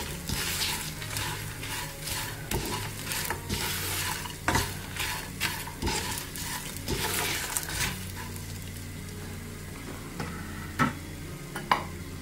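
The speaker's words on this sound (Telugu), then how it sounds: "చింతపండుని, ఈ అల్లము, చిన్నులపాయలు, కొద్దిగా కరివేపాకు వేసేసుకుని 1 నిమిషం వేగనివ్వాలి" Tamarind, ginger, shallots and curry leaves frying in a pan with a continuous sizzle, broken by frequent scraping and clattering of a utensil against the pan in irregular bursts, close by and without speech.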